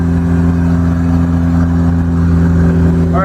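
A Volvo 940 with a bent frame pulls hard in third gear, its engine drone steady, close and loud from inside the cabin.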